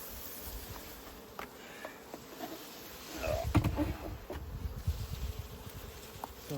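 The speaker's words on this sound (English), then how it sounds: "we've got bees right the way to the top" A steady low insect hum of many honey bees in an opened hive, growing busier and louder partway through, with faint handling bumps.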